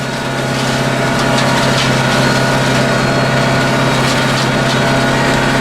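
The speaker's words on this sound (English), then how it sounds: "let's just concentrate on a bit of hedge trimming" Tractor-mounted hedge trimmer running steadily while cutting a hedge, a constant loud engine and mechanical drone with no pauses and no speech.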